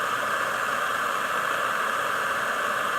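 A Craftsman heat gun blowing hot air, a loud, steady, unbroken airy hiss like a powerful hair dryer, held close with no variation.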